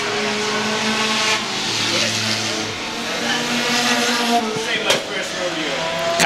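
Four-cylinder enduro race cars circle Star Speedway in the final laps, a dense pack of engine drone with shifting pitches and a brief sharp burst near the end, an announcer's voice running over the racing.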